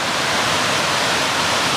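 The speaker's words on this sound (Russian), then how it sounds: "Я пока купаюсь в водопаде." A waterfall on River No. 2 in Sierra Leone, a dense, continuous roar of rushing water heard up close and loud, with no voices over it.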